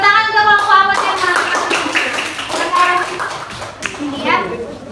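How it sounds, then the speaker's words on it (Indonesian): Schoolchildren in a classroom clap for a student group after its presentation, a lively patter of small hands mixed with children's voices chattering over it. "Oke, tepuk tangan untuk kelompok apel tema."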